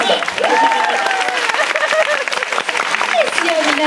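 Audience applause at a live talk show in a hall, a steady patter of clapping with light cheering running throughout the short stretch, mixed with voices and crowd noise.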